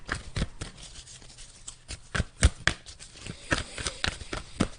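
Tarot cards rustle and tap as one is drawn from the deck, a quick run of close, crisp paper flicks and soft slaps, up close and without talk.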